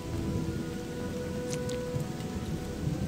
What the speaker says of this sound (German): Mal scheint die Sonne. Dann regnet's. Und dann regnet's wieder.